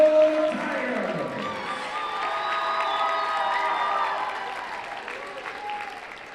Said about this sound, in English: Let's give them a huge round of applause for their hard work